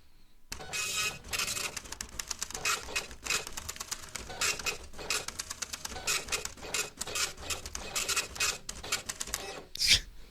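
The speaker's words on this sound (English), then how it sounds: "Printer's getting slower, I think." An office printer runs through a case file printout, its rapid rhythmic mechanical chatter of feeds and head passes continuous and close for about ten seconds, ending in a brief louder whir.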